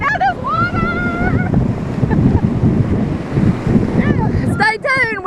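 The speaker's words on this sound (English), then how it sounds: "look at the surf. Getting pretty rough." Rough surf and gusting wind batter the microphone on a beach during Hurricane Hermine at North Myrtle Beach, a constant roaring wash with voices and shrieks heard at the start and end.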